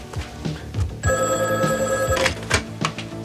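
A telephone bell rings once in a sustained burst of about a second, loud and close, set among indoor thumps and shuffling movement with no speech.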